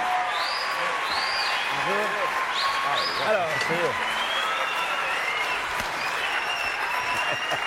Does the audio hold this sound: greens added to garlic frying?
no